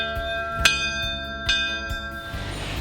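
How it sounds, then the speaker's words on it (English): An old church bell serving as the front doorbell of a heritage church converted into a home rings out in several clear, ringing strikes with long resonant tails, close and loud, with no talking. "this is our front doorbell"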